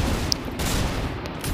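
Gunfire in the mobile shooter Free Fire, with a short burst of rapid game shots over a dense, noisy background lasting under two seconds.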